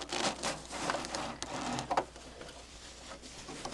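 A Brother LX3014 sewing machine with a flower foot stitching through four layers of muslin, a steady close mechanical whirring patter with needle rhythm running throughout at moderate loudness.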